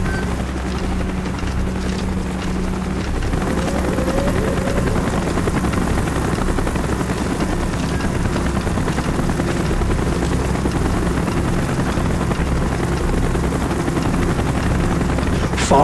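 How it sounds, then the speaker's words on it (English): A helicopter in the Call of Duty: Black Ops campaign drones loudly and steadily throughout, its thick rotor wash and engine roar filling the scene as it draws in close, with no pause or break. "Chopper's inbound."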